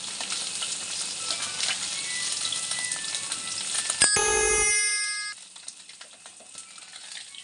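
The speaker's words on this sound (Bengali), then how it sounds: "আমার মাছটা ভাজা হয়ে গেছে এবার তুলে নেবো" Steady sizzling of small mourala fish frying in hot oil, briefly interrupted by a sharp clatter before the crackle continues more quietly.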